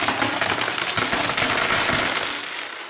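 Coins of various foreign currencies clink and jingle as they are handled and sifted, a dense run of metallic clatter close by for nearly three seconds, fading slightly at the end.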